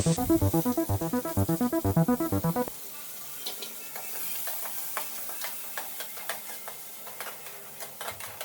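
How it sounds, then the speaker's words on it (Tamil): For a fish kuzhambu, onions and tomatoes with curry leaves and chilli sauté in a pan. A loud rhythmic mechanical pulsing runs for the first few seconds, then gives way to faint stirring taps and a soft fry. "வெங்காயம் தக்காளி எல்லாம் போட்டு நல்லா வதக்கணும்"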